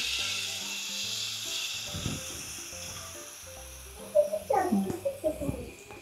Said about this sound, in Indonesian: kita lanjut menggoreng lagi teman-teman